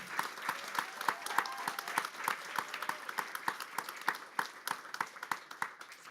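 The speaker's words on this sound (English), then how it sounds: "Let's give them a round of applause for being there and contributing back." Audience applause for graduates and alumni at an Android demo day at Google HQ: steady, fairly soft clapping from a crowd in a hall, with no voices.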